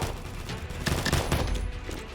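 Gunfire in the video game Master Combat, a dense burst of rapid shots that rattles steadily for about two seconds with no voices over it.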